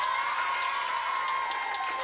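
Children and an audience applaud and cheer at a school snow-class evening show in 1994, a steady burst of clapping and crowd noise with bright chatter, loud and close throughout.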